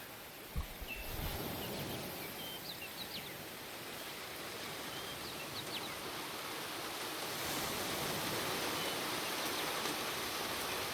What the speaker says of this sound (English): light rain on roof with some birds sounds like what we need.